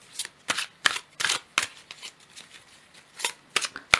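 A tarot card deck is shuffled by hand in quick, close riffles and soft slaps, a dozen or so crisp bursts in an uneven rhythm with no one talking.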